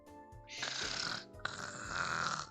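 Two long, rasping cartoonish snores from the visual novel game Cupid Parasite, each breath in a drawn-out buzzing rumble, loud and close with no talking.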